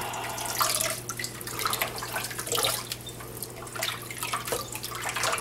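Water running and splashing as escarole leaves are lifted from a soaking bowl into a colander in a kitchen, a continuous soft wash of flowing water with faint drips and sloshes, no talking.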